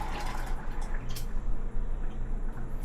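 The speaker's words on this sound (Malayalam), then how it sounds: "നമുക്ക് ഇതിനകത്തുനിന്ന് അങ്ങോട്ട് ഒഴിക്കാം." Jaggery liquid poured from one vessel into another, a continuous close splashing gurgle of thick liquid streaming for a few seconds alongside a low steady hum.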